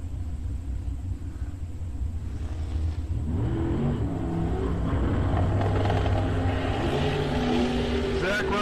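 A turbocharged LS-based drag race car accelerates down the strip, a loud, continuous engine roar that rises in pitch over several seconds amid track ambience.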